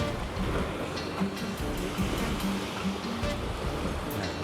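Steady rush of ocean waves breaking and washing in on Singapore's East Coast, a continuous broadband roar with no clear pauses, moderately loud throughout.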